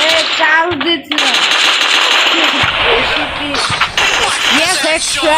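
Bursts of gunfire from a Free Fire custom match, with rapid shots cracking throughout and an excited voice talking loudly over them.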